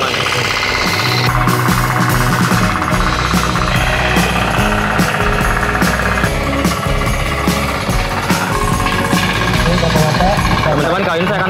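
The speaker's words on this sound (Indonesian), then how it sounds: "kali ini saya akan praktekkan menggunakan traktor patok dan ini di lahan ini" A mini four-wheel tractor runs under load on hard, compacted soil, its engine a loud, steady, rattling chug that goes on throughout and sounds close at hand.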